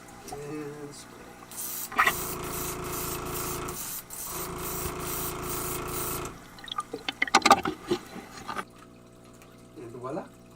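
A steady hiss of paint spraying onto a bluegill fishing lure in two bursts of several seconds each, followed by rattling handling noises and a brief quiet voice.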